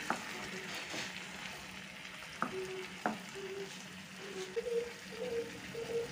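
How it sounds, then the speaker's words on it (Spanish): Chicken wings fry with garlic and onion in a pan while being stirred, a quiet steady sizzle broken by a few sharp utensil clicks and scrapes. "Ahora agrego las alitas de pollo y mezclo para integrar todos los sabores del ajo, la cebolla"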